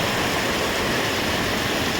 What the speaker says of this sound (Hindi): ये देखें नदी इस प्रकार से बह रही है